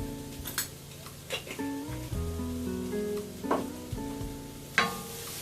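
Onion seeds and nigella seeds with mustard seeds crackle and sizzle in a dry pan while a utensil stirs them, giving intermittent scrapes and clinks. Sharper pops stand out now and then. The sound is close and moderately loud, with no talk.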